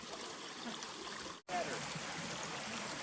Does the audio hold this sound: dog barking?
no